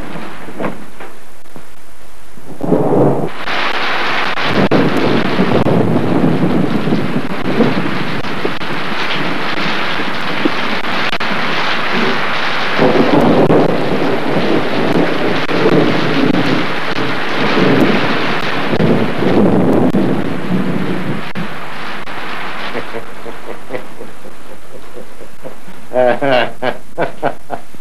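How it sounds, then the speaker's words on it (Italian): A thunderstorm from an old Italian film soundtrack: loud, sustained rumbling thunder rolls over steady rain for most of the stretch, fading out near the end, with no voices. "Hai sentito che fulmini?"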